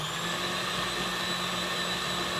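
A steady, loud, close electric whirr as white chocolate cranberry cake batter is mixed, holding an even droning pitch throughout with no pauses.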